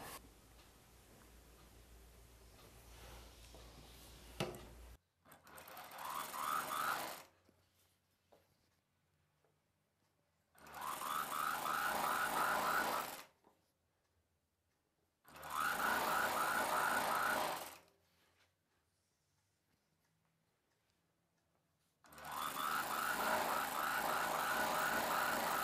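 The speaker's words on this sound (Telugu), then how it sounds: "ఇలానే రెండవ పీస్ని స్టిచ్ చేసుకోవాలి." A sewing machine stitches a palazzo pant piece in four separate whirring runs of a few seconds each, divided by quiet pauses, after a faint low hum at the start; nobody speaks.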